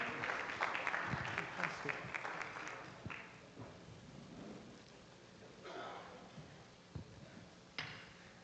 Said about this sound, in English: Put your claps for the judges as well